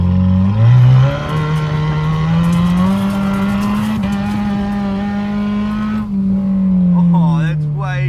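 Car with new dual exhaust pipes revving, a loud, rough, sustained engine drone that holds steady then drops back, with voices talking over the end.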